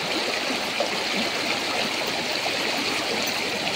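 A river in Tayabas, Quezon, where horses wade across, flows with a steady, broad rushing wash, continuous and fairly close, with no voices over it.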